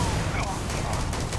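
A grenade blast in the video game Starfield, heard as a dense, loud explosive burst that fills the whole moment, mixed with gunfire-like crackle.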